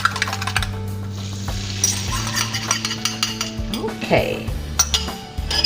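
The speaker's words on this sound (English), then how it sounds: "Make sure this is beat up really well." Egg beaten in a bowl with a utensil, rapid clinking and scraping strokes in a close, uneven rhythm, with a brief spoken word and background kitchen hum.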